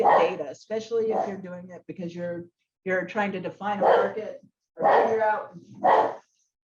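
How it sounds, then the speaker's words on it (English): A pet dog barks and yips in the background while a man gives an online talk on outdoor recreation trends in New Mexico. The barks come in short bursts mixed in with his steady speech. "Sorry about my dog."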